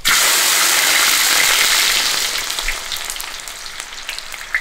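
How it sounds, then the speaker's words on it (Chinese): Garlic hitting hot oil in a wok, a loud, hissing sizzle that starts at full strength and gradually settles into a softer crackle with scattered pops, no one speaking. "大蒜下锅爆香"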